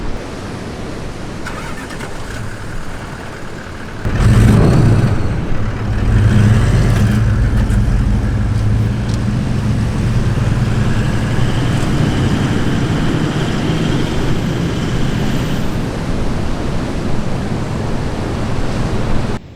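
A vehicle driving along the sand of a beach on the NSW Mid North Coast: a steady loud rumble of engine and wind with a surge as it gets going, continuous throughout with no talk.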